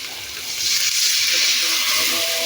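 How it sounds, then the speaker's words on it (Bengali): A little water is poured into a hot cooking pan, setting off a rising, rushing hiss that holds steady and close for a couple of seconds. "সামান্য পরিমাণে পানি দিচ্ছি।"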